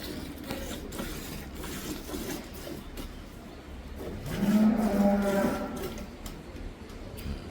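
Dairy cows on a farm in Dhamrai, Dhaka, with a long low moo rising in the middle over a steady background rumble of the barn; faint voices are heard only slightly.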